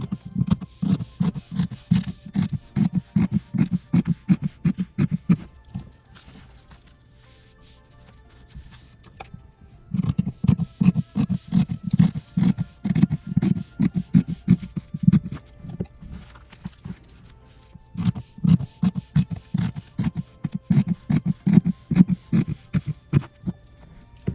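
Scissors cut through paper and quilting fabric in quick rhythmic bursts of snipping, close and clear, separated by short pauses, with no voices.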